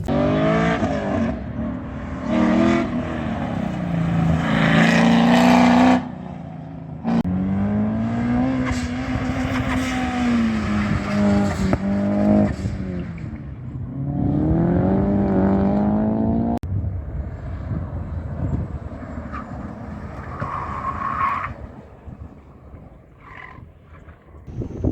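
A car engine whines and revs on an autocross course as it accelerates and slows repeatedly, rising and falling in pitch, loud and fairly close, with occasional distant noise.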